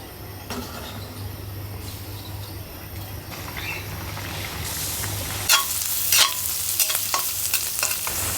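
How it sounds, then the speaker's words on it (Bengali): Taro pieces frying in a curry give a steady sizzle that swells in the second half into louder crackling and scraping stirs, close by, with no talk. "এই যে কয়েকটা কচু এখন ওর তরকারিতে চলে যাচ্ছে।"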